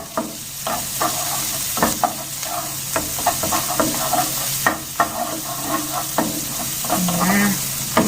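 Green beans with chili and torch ginger flower stir-fried in a hot wok, a steady loud sizzle punctuated by regular scraping spatula strokes, close and continuous without talking.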